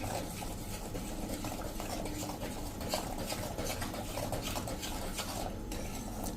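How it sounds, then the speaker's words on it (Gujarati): Coarse ragi flour is stirred in ghee in a pan over a medium flame, a faint, continuous scraping and sizzling patter. "એને આપણે આ રીતે 2 મિનિટ ઘીમાં મીડિયમ ફ્લેમ ઉપર હલાવશું"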